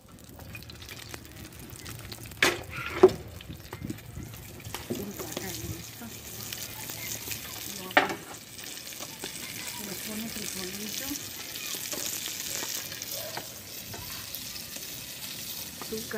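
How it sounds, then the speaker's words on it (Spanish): Gorditas stuffed with beans and meat frying in hot oil for Sinaloa-style gorditas, a steady sizzle running throughout with a few louder pops and clatters, and someone speaking over it at times. "Y se ponen a freír en el aceite."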